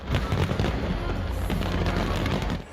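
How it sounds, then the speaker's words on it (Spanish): New Year fireworks at a large public celebration give off a dense, continuous barrage of crackling bursts and booms, loud and unbroken throughout. "un show de luces y fuegos artificiales"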